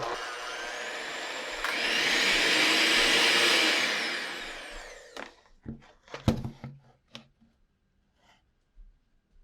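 An electric mixer whirs steadily through cheesecake batter with sugar in a bowl, a sustained motor drone that stops midway, followed by a few scattered clacks and knocks against the bowl.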